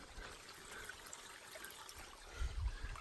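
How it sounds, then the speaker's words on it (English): A small creek trickles down the middle of a steep White Mountains trail near Galehead Hut, faint and close, a soft continuous babble with a few louder low splashes toward the end. "a little baby creek running right down the middle of the trail"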